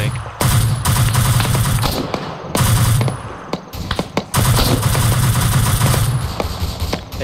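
Short bursts of automatic gunfire in Arma 3, Resistance Fighters co-op: several loud rapid volleys with brief pauses between them, plus scattered single shots and thumps, close and dominant, with no talk.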